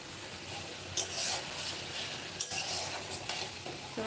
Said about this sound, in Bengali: ভালো করে কষিয়ে নিতে হবে যে কারণে আমাকে ওয়েট করতে হচ্ছে মশলা কষানোর জন্য